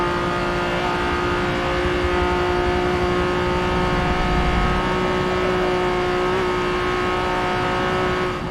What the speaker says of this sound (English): Those rumble strips.